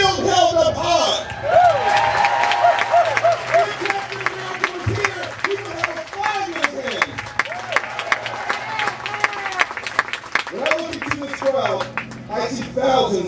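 A large crowd at a Richmond Tax Day Tea Party rally on April 15, 2010 claps and cheers steadily while someone speaks loudly over the noise through a public address system.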